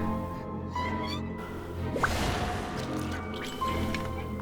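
A cat meows in a story-driven video game, a soft call heard up close over a bed of game music and drippy, squishy effects, with no one talking.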